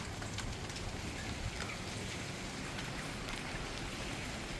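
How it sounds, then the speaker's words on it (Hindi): Steady rain falling outdoors, viewed from a rooftop, a dense continuous hiss of drops on surfaces with no pauses, fairly close and even in loudness throughout. "बारिश हो रही है इस वक्त।"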